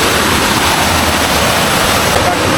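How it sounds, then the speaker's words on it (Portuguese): A waterfall in a cool Pernambuco forest, reached along a short trail, gives off a steady, loud broadband rush of falling water that holds even for the whole stretch, with no talk over it. "andei só um pouquinho e já cheguei na cachoeira"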